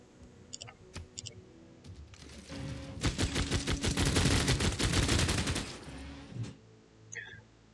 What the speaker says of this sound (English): Hit with bombard.